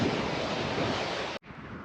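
Sea waves wash steadily onto a Canary Islands shore near Corralejo's dunes, heard as a broad, continuous rushing surf mixed with wind buffeting the microphone, cut off by a brief dropout near the end.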